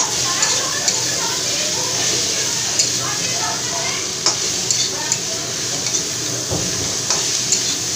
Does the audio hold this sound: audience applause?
no